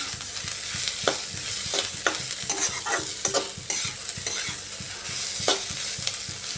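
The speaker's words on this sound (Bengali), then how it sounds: "আদা কুচি দিয়ে একটু হালকা ভেজে নিচ্ছি" Chopped ginger frying lightly in a pan, a steady sizzle with repeated scraping strokes of a spatula stirring it, close and continuous without talk.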